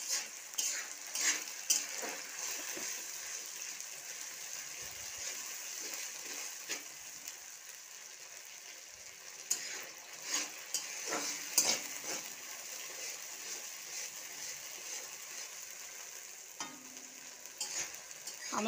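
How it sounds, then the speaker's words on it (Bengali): A ground spice paste with green chillies is fried and stirred in a pan for a live fish curry (lata and shol fish), giving a soft sizzle beneath repeated scraping and clattering stirs, fairly quiet, with no voices. "এই যে পুরো সব একসঙ্গে মশলা করে নিয়েছি সেইটা ঢেলে দিচ্ছি। মশলাটা আমি ভালো করে কষে নেব।"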